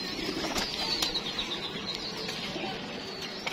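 Pigeons kept in a loft flap their wings in a few soft, brief flutters, heard fairly faint and close with no clear cooing.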